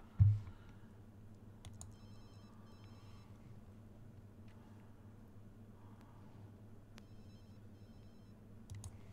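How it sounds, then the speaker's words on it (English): Repeated trilling phone rings from The Sims 2, set in a college dorm, sound in short paired bursts across the span, moderately loud above a low steady game backdrop with clicky sounds, no talking. "Just go answer that phone."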